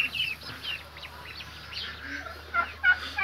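Turkey hens and other fowl in a Brazilian backyard poultry yard, with repeated nearby calls and gobble-like cries coming in short bursts over a steady low hum.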